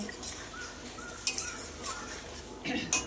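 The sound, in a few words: pot and utensils clattering as cooked vegetables are taken off the stove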